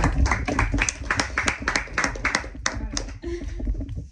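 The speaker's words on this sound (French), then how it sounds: "Applaudir." Several people clap their hands in a fairly close round of applause, a quick irregular patter of claps that thins out toward the end, with voices talking over it.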